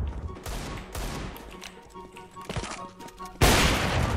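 Sharp bursts of gunfire in Counter-Strike: Global Offensive crack out in quick, irregular volleys, ending with a louder sustained burst of shots.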